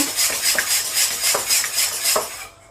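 Yogurt being mixed into apple cake batter in a bowl, a rapid repeated clinking of a utensil against the bowl in a steady rhythm, close and loud, ending abruptly.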